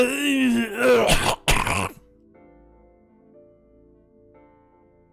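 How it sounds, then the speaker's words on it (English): A throaty, strained vocal sound like a held-back cough, followed by a short sharp burst, then near silence with faint music underneath. "it's me trying to prevent a cough"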